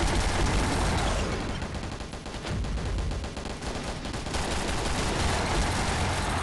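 Powerful Gatling guns in a video game hammering a boss with sustained, dense automatic fire, a loud continuous roar of rapid shots for the whole stretch without pause.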